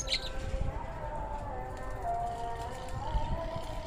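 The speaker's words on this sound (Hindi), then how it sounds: "तो ये हैं हमारे कबूतर।" Pigeons coo close by after being fed grain, a soft steady warbling call running throughout with faint bird chirps and rustling.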